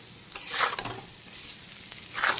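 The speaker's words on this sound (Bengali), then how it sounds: "এখন 3 থেকে 4 মিনিট সময় নিয়ে মিডিয়াম টু হাই ফ্লেমে আবারও সমস্ত কিছু কষিয়ে নিচ্ছি" Fried potatoes, shrimp and yardlong beans sautéed with onions on medium-high flame, a short stretch of soft sizzling with a couple of brisk spatula stirs scraping the pan, close and without voices.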